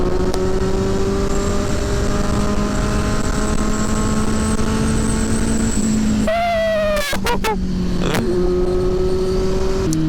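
A Kawasaki Z900 SE motorcycle engine revs hard, holding a loud, steady high-pitched scream, then dropping and blipping sharply a few times before settling back to a sustained drone.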